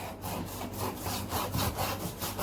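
A knife saws through a shark's tail in quick, rhythmic back-and-forth strokes, about eight rasping passes in a row, faint and close with no voices.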